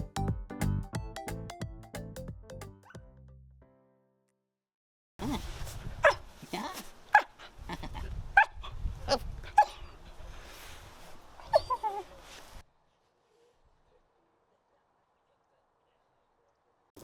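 Puppy barking, yipping and whimpering while playing outdoors in the evening: a run of sharp, close barks and high whines in irregular bursts over several seconds, with other clattering sounds before and near silence after.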